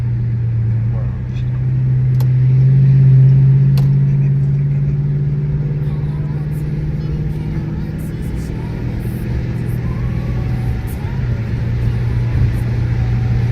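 Chrysler 300 V8 engine humming low and steady from inside the car on a late night drive, swelling briefly as it pulls, then settling into an even cruising drone.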